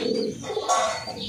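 A young domestic pigeon coos close by, a short soft throaty call with chirpy overtones, heard alone without talk.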